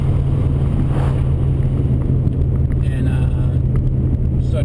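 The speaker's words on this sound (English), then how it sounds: "So just a third gear roll in" A 2004 Subaru WRX with an Invidia Q300 catback exhaust rolls in third gear, giving a constant deep exhaust drone and wind rush heard from inside the car, steady and loud throughout.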